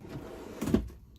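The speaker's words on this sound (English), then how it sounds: "The drawer." A storage drawer in a modified International truck slides open with a brief scraping rumble, a single close, fairly loud burst lasting under a second over quiet room tone.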